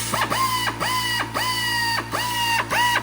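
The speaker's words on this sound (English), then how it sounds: "So here is a little belt grinder." A small pneumatic belt grinder for taking down spot welds, fed by a VEVOR 8-gallon air compressor, whines steadily in repeated bursts, its pitch swooping down and back up with each short pause in a close, loud, mechanical rhythm.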